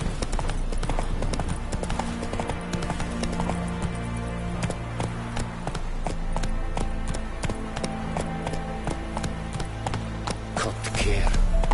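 Roach, the horse in The Witcher 3, clip-clops along with steady, close, distinct hoof strikes in a regular walking rhythm, layered over a low sustained musical or ambient drone.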